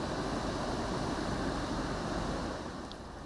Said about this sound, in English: Japan's Okinawa Island was battered by strong winds, heavy rain and destructive waves.